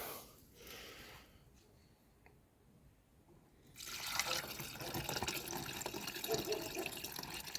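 Water pours into a wine bottle holding slightly wilted grapes for homemade wine, starting as a quiet trickle and swelling into a steady, close gushing fill for the second half.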